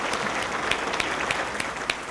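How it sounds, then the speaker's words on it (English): Audience at a public safety valor awards ceremony applauding firefighters: a brief burst of steady clapping from a crowd in an indoor hall, close and even. "Another round of applause, everyone, for these outstanding firefighters and their work."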